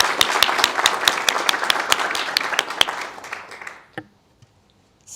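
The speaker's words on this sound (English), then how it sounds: "A round of applause for everyone." A crowd at a business pitch showcase evening claps loudly. Individual sharp claps stand out in the dense applause, which fades and stops around four seconds, leaving near silence with a couple of stray claps.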